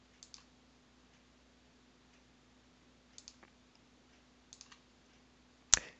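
A computer mouse button is clicked while publishing in NX 1953 TDP software, heard as a few sparse, faint, sharp clicks spread across a quiet room with a low hum, ending in one louder click.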